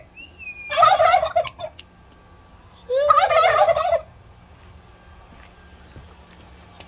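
Turkeys kept in a backyard in the middle of a city gobble in two loud, rippling bursts close by, with a quieter stretch of background noise between and after them.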